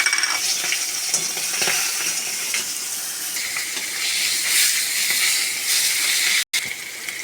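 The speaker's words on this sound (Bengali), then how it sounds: "এখানে আমি মাছটা ভেজে নেব প্রথমে।" Fish frying in hot oil in a kadai for a Bengali ash shukto dish, giving a steady loud hiss and crackle that runs throughout with a brief dropout near the end.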